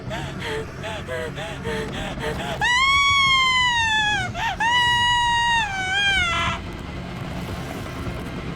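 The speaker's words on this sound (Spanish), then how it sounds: "¿Qué fue eso? Sonaba como Ripley gritando." A long, high-pitched, wavering scream rings out in a Spanish-dubbed swamp-creature horror film, loud and sustained for several seconds after softer whimpering cries, then cuts off abruptly.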